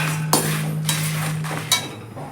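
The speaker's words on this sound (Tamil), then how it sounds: "கொஞ்ச நேரம் வந்து சிம்மில் வச்சுட்டு ட்ரை ரோஸ்ட் பண்ணுங்கள்" Lentils dry roasting in a pan for sambar rice, with a few sharp metallic clinks of a utensil against the pan over a steady low hum and faint background hiss.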